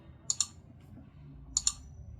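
A computer mouse clicks the zoom buttons in a spreadsheet: two quick double clicks, crisp and close, separated by a short pause over a quiet room background.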